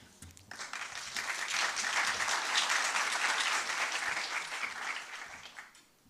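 Audience applause at a summit opening plenary swells up quickly after a brief pause, a full, steady clatter of many hands that holds for several seconds and then tapers off to quiet.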